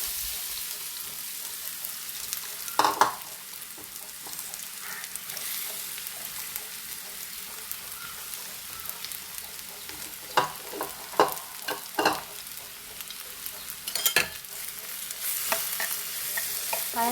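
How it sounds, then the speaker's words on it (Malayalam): Ripe banana pieces fry in ghee with a soft continuous sizzle, while a spoon scrapes and stirs the pan in intermittent clicks and scuffs, close and steady, no talk. "ഇനി ആ നെയ്യിലേക്ക് നമുക്ക് പഴം ഇട്ട് കൊടുക്കാം."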